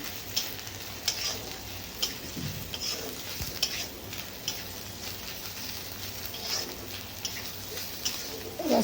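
Ground drumstick leaves being mixed into roti dough by hand, a soft, steady squishing and stirring with faint periodic taps, with birds cooing quietly in the background.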